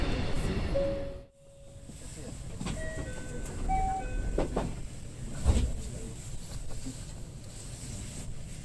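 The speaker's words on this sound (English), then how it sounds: "the train finally departs from Fukuyama, the 9th station" A westbound train on the Sanyo Main Line pulls out of Fukuyama Station, its rumble building under brief tonal chimes and announcement tones, with a low thump midway and steady rolling noise after.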